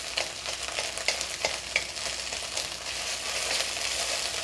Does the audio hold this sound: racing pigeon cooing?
no